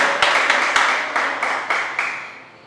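A church congregation claps together in a steady rhythm, around eight sharp group claps in even succession that fade toward the end.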